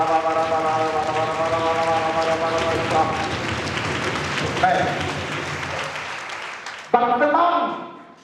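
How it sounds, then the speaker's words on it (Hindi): A church congregation claps hands in praise, a dense steady patter of applause under a voice and sustained musical tones, cutting out briefly before resuming more faintly. "ताली बजा के खुदा के महिमा करें"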